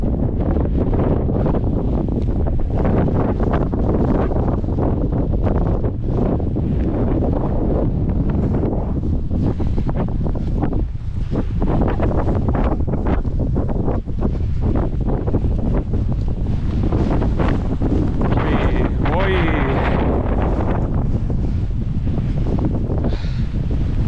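Strong, continuous wind in the Agrafa mountains of Greece roars and buffets the microphone, a heavy rumbling gust that never lets up, with faint water sounds beneath it.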